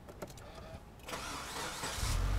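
A Subaru Forester XT SJ turbo engine is started with the hood open: a brief cranking whir after some clicks, then it catches into a loud, close, steady idle rumble.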